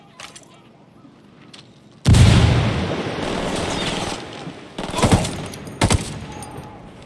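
A frag grenade bursts in the Ghost Recon Wildlands video game, a sudden loud blast with a long rumbling tail, followed by sharp close gunshots cracking through the fading boom.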